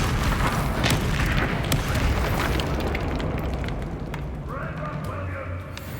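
Confringo fire spell explosion in the video game Hogwarts Legacy, a loud booming blast with crackling fiery bursts that decays over several seconds, mixed with game effects.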